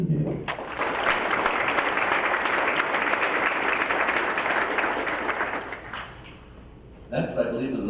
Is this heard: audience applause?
yes